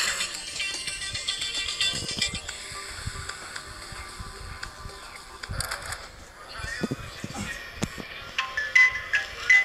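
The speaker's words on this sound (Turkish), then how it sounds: "Telefon çaldı." A telephone rings in a video game with a repeated electronic tone, moderately loud over game ambience and background noise, while a person talks at times.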